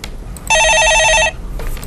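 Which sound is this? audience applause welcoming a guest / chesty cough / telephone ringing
telephone ringing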